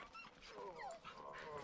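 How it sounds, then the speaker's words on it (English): A big hound dog lets out faint, high whimpering whines and soft yips in quick, excited bursts, heard close but quiet. "you big hound dog."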